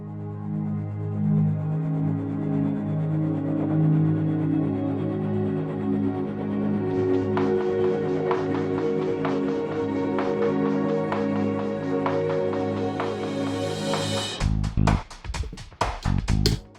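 A sustained synth pad chord plays under a steady beat, then cuts off abruptly near the end, leaving sharper, choppier percussive hits.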